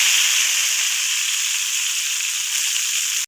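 Whole cumin seeds and whole garam masala crackle and sizzle in hot oil for a kadhi pakora tadka, a loud, steady hiss that holds evenly and then cuts off abruptly at the end.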